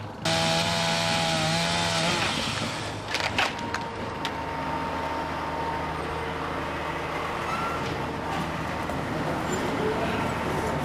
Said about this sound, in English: You cut it off with a chainsaw, a couple of chainsaws, just cut around